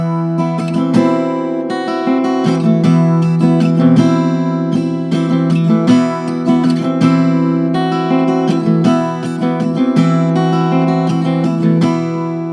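Acoustic guitar playing a simplified version of a song, with a steady fingerpicked riff of ringing notes and strummed accents, close and loud, with no talking.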